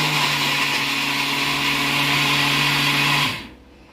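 A new Prestige mixer grinder whirs loud and steady while blending Oreo biscuits into powder for a homemade cake, running continuously for over three seconds before winding down.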